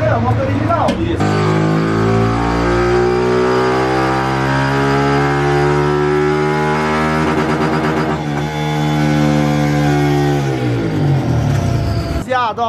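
A motorcycle with a 190 kit revs hard on a dynamometer in third gear and climbs steadily in pitch, very loud and close, then drops off abruptly at the end.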